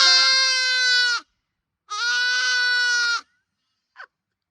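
A newly arrived farm goat bleats loudly and close, two long, strong calls of about a second each, separated by a pause, then a brief faint squeak at the end.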